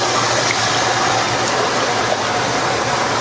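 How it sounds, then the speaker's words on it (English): Heinzen HMI Model 2415 Short Order turbulent-flow leafy greens washer, loud continuous rushing and gushing water churning steadily throughout with no pauses and no talk. "you'll see that the product is taken under the water and flowed"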